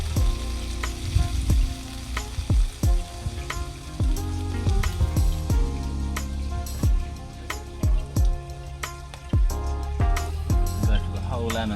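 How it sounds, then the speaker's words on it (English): Vegetables and lemon sizzle loudly in a pan, a close, busy frying hiss broken by repeated knocks and stirring clatter, with a voice speaking over parts of it. "I want to make sure all them vegetables cook through properly."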